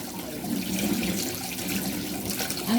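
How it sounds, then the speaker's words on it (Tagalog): Running tap water splashes steadily over food being washed in a sink before cooking a Filipino vegetable stew, a continuous close rush with no talking. "Hugasan muna natin para mamaya hindi na siya hugasan."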